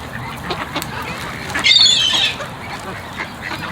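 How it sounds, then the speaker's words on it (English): Ducks being fed popcorn give a burst of raspy quacking near the middle, close and moderately loud, over a steady outdoor hum. "These ducks are less shy."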